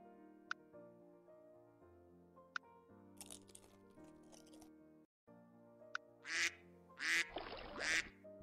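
Duck quacks come in a quick cluster of several loud, nasal calls near the end of an animal sound guessing game, over gentle background music with a little crunching earlier.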